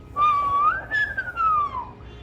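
A single person whistles an imitation of a screech owl's whiny screech, one drawn-out tone that rises, holds and then falls away near the end, clear and alone against faint room noise.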